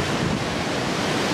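Ocean waves and wind on a sunny day at sea, heard from aboard a cruise ship bound for Alaska: a steady, loud broadband wash of surf with buffeting wind noise on the microphone, and no voices.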